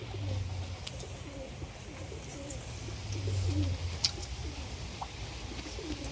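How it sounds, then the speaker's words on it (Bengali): Soft, repeated pigeon coos rise and fall at a moderate distance, with faint background noise and no talking. "পায়রা চলে এসছে আবার"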